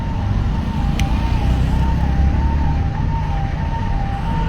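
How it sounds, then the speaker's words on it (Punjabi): A wailing ambulance siren rises and falls steadily over heavy, continuous traffic rumble from a long highway jam at Dera Bassi, moderately distant and unbroken throughout. "ਇੱਕ ਐਂਬੂਲੈਂਸ ਸ਼ਾਇਦ ਆ ਰਹੀ ਹੈ"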